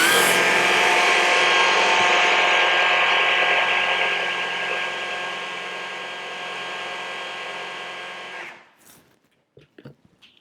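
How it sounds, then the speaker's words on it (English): A mini food processor blends chickpeas into hummus with a loud, close motor whir and churning that runs steadily for about eight seconds, softens slightly, then cuts out, followed by a few small clicks and knocks. "This is my mini food processor, which I love"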